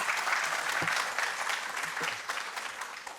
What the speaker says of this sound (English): Big round of applause for Mr. Jeffrey.